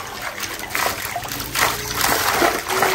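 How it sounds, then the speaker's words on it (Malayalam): Water splashes close by during fishing for fish in two colours: short, irregular bursts of splatter and sloshing over a constant watery wash. "വെള്ളം തെറിക്കുന്ന സാരില്ല."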